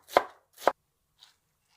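Two firm knife strokes through food on a cutting board, close and distinct about half a second apart, followed by a faint light tap; no talking, quiet between the cuts.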